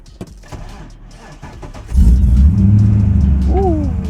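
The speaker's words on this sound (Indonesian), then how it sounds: "sekarang mari kita dengar suara mesin 5700 cc V8 yang sudah dipasangkan di Mazda RX-7 ini" A 5700 cc V8 swapped into a Mazda RX-7 starts up and revs, a loud, deep, rumbling burble that swells and holds steady, with a brief rising rev near the end after some quiet shuffling at the start.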